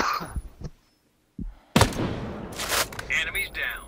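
Gunfire from a Zastava MP5 submachine gun in a shooter video game, short bursts of sharp shots with crashing impacts and game effects, while voices talk over the action.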